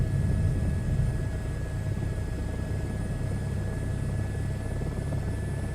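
A helicopter in Microsoft Flight Simulator 2020 drones with a steady, loud low-end rotor rumble and a thin constant turbine whine, unbroken and with no voices throughout.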